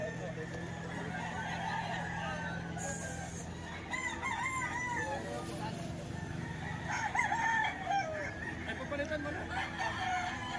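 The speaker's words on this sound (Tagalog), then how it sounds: "halos magsara na yung daanan sa dami ng manok" Many gamecocks gathered at a crowded poultry gathering in Lipa, Batangas, crow over and over, overlapping at varied distances with clucking, under continuous crowd talk.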